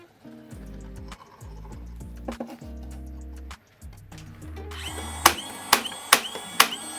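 A power drill with a paddle bit bores into wood for a DIY planter, whirring in several rising and falling bursts, then a few sharp ticks close by at the end.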